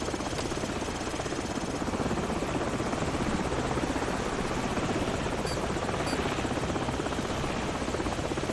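A helicopter in Call of Duty 4: Modern Warfare hovers close by, its rotor a loud, unbroken throbbing drone that holds steady from start to finish.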